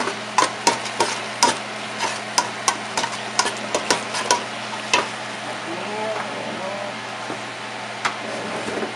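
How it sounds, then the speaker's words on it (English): A paste mixture being added to coconut milk for Cambodian yao hon and stirred in a pot, with repeated clinking knocks of a utensil against the pot over a low simmering sizzle, close and steady. "So now you want to add that paste mixture from earlier. You want to add that into the coconut milk."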